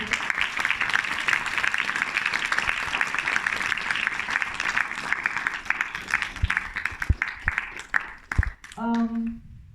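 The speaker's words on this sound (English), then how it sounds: "they deserve a lot of applause" An audience at an animation film festival awards ceremony applauds the sponsors on stage, broad sustained clapping that thins out near the end before a voice begins to speak.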